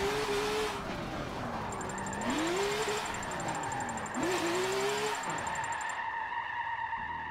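A BMW race car drifting in the racing game Forza 7, its engine revving up and down in repeated sweeping surges, with a steady high tone running through the middle and no talk.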